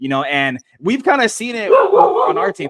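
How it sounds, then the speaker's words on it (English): Dog barking close by in a room, a few sharp yips and barks overlapping someone talking. "That's my dog."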